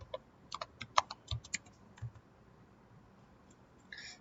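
Keys on a computer keyboard are tapped in a quick irregular burst of close, crisp clicks, then a pause and a final few clatters near the end.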